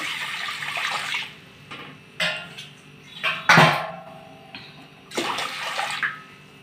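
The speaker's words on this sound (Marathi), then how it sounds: "पाणी घालून घेऊया" Water poured in short, separate bursts into spinach dough being kneaded for palak vadi in a home kitchen. A few splashy pours rise and fade over several seconds, with quiet gaps between them and no voices.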